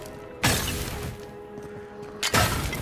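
Breakable objects smashed in the fantasy video game Avowed: two sharp, loud crashes about two seconds apart, each with a bright shattering burst, over a quiet steady background.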